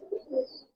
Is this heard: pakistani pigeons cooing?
yes